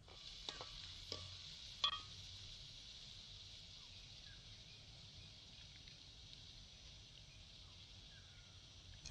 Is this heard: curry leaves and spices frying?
yes